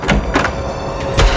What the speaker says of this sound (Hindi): क्यों दरवाजा तोड़ रहे हो तुम यार?